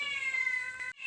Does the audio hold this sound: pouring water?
no